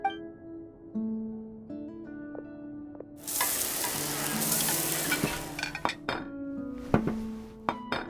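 Food being stirred and fried in a pan in Genshin Impact: steady sizzling rises midway over soft music tones, with scattered clinks of utensils and dishes, no voices.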